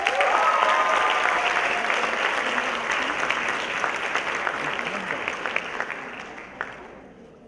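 A big round of applause from an audience at a university event, loud and dense at the start and tapering gradually over several seconds into scattered claps.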